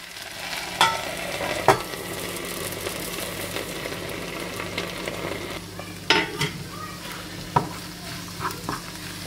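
Okra stir-fry (vendakka mezhukkupuratti) being stirred in a pan, with steady low sizzling and a few sharp spoon scrapes and clinks against the metal spread across the stretch.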